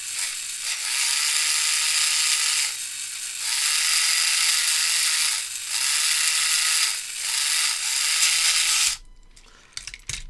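Vintage Tomy toy train motor and gears whirring loudly and steadily with a mechanical ratcheting buzz, briefly dipping a few times before cutting out near the end.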